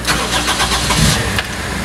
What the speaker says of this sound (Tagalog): Paandarin ko yung sasakyan ko